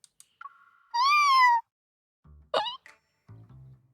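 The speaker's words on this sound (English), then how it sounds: "The meow that slips out makes me look down." A single loud, drawn-out cat meow rises and falls clearly on its own, with a few short clicks and soft thuds scattered around it.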